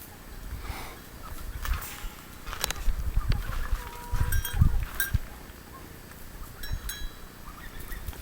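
Hens clucking in a backyard garden in midsummer, a few short calls rising over faint outdoor background noise, with a broad gust or two; no talk.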